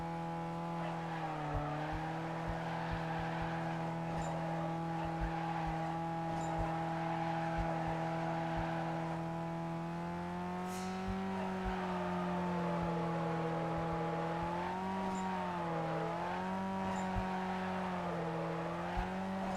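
Steady engine drone with pitch shifting harmonics and a continuous tire squeal as a Nissan 240SX drifts through canyon roads in Need for Speed Carbon, loud and sustained throughout.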